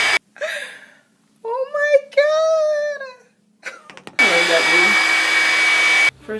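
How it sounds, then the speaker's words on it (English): A Revlon One Step hair dryer roars on steadily for a couple of seconds, loud and close, after a voice speaks and whimpers in short bursts. "My ghetto white tooth comb on my blow dryer could never do this."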